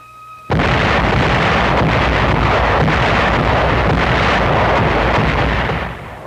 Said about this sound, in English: All along the front, the German-dominated heights were under the muzzles of Allied guns. At 11 p.m., they went into action.